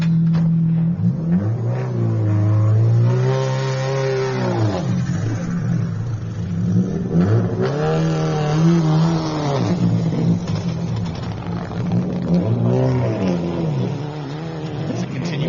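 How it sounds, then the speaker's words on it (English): A rally car engine revs hard as it passes through a forest stage during the rally shakedown, rising and falling in several loud, sweeping surges across the clip, with no talking. "Next car inbound, Jared Kite and Chris Stilling"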